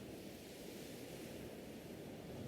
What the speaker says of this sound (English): just like the ocean's waves that you can hear softly in the background